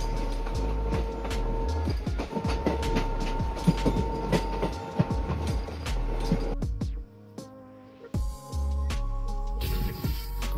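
The Sealdah Kanchanjungha Express in motion, its wheels rattling in a fast rhythmic clatter with a steady heavy rumble, which drops away briefly before the clattering returns.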